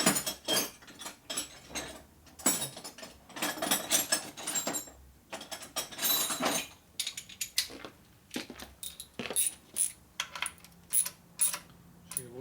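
Wrench torquing down a bolt on a Harley shovelhead engine: a run of sharp metallic ratchet clicks and ticks in uneven bursts, some rapid and some spaced, close and fairly quiet.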